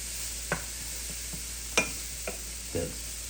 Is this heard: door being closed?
no